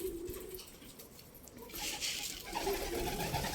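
Pigeons in a coop coo softly in low, rounded calls, with some rustling and fluttering that grows busier toward the end; the sounds are faint and close.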